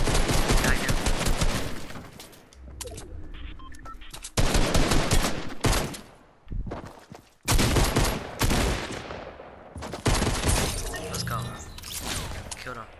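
Heavy, loud bursts of gunfire and shattering impacts in a Fortnite battle royale match, in several long, dense volleys separated by brief quiet gaps.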